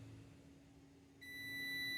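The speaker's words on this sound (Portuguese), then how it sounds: "Bipou, ele conduziu." A multimeter gives a continuity beep while testing a good fuse: a steady electronic tone starts abruptly partway through and holds to the end, clear over a faint low hum.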